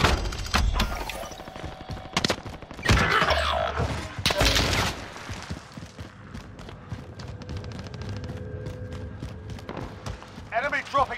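Sustained automatic gunfire in Call of Duty Warzone, loud bursts early then trailing into scattered shots and thuds, with voices talking over the action.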